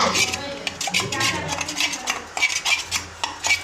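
A spoon stirs a thick mixture of melted Dairy Milk chocolate in a bowl, giving repeated close metallic clinks and scrapes in an uneven rhythm against a low background hum.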